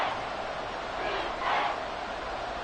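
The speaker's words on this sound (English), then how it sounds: "This crowd doing all they can." Crowd roaring steadily in an American football video game during a tense late fourth-quarter drive near the goal line, a continuous wash of cheering that swells briefly midway.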